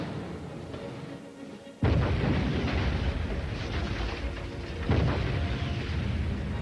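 Explosions in the World War II game Medal of Honor Rising Sun, heard as two heavy booms a few seconds apart. Each one is followed by a sustained roaring rumble and debris noise, loud and close, with no speech.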